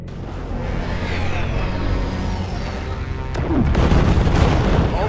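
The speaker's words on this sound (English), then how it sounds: "Missiles make contact, but the target is unaffected." Missiles striking a target in an Ultraman Blazar battle, a sustained roaring rumble that swells into a heavier, louder booming blast near the end.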